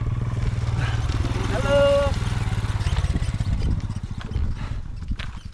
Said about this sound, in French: Il y a une moto qui s'en vient.